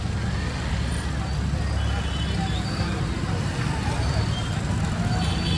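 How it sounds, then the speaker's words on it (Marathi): Road traffic in Chandgad, a steady roar of cars and heavier vehicles passing nearby with constant engine and road noise, voices faintly mixed underneath. "चंदगडात ट्रॅफिक झाला"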